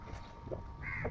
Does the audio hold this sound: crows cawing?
yes